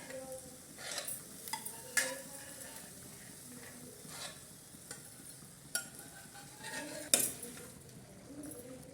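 Boiled alasanda (black-eyed peas) guggillu being stirred in a pot, with soft scrapes and sharp spoon clinks against metal at irregular intervals over a low background hiss.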